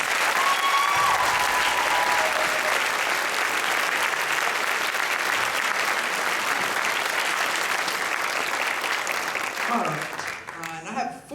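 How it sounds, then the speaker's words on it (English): A large audience claps at a school band awards ceremony, a long, full, even wash of applause that stays steady for about ten seconds before tapering off, with voices emerging at the very end. "Give them all a round of applause, please."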